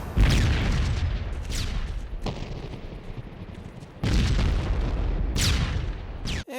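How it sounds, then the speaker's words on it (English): Stock explosion effects blow up a shuttle in the movie Spiders: a series of loud booming blasts with sharp cracking onsets, the first rumbles away and a second big detonation hits around the midpoint, then a final short burst. "Agent Gray then uses some stock explosions to blow up the shuttle."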